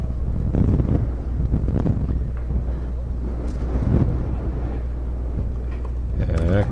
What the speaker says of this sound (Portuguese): está ventando um bocado lá em Roma